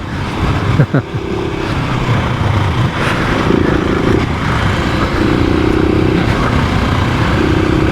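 A 700 motorcycle rides off road through holes in the Canadian Rockies, its engine droning steadily up close with rises and dips in revs, plus bumps and clatter from the rough ground.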